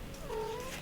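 A domestic cat lets out one drawn-out, wavering meow lasting under a second, fairly close and clear over a low background hum.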